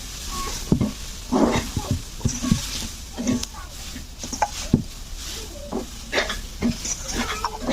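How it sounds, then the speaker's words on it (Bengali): Grated coconut frying in a pan while coconut samosas are made, with scattered stirring scrapes and soft sizzling over kitchen clatter, close up and uneven. "এদিকে নারকেলটাকে ভেজে নিচ্ছি।"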